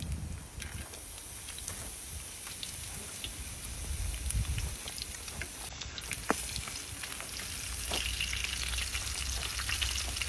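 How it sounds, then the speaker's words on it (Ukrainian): Steady crackling sizzle of pork fat frying in a pan, with occasional pops, close and continuous, no talking. "Дивіться, як смажиться сало, аж слина тече."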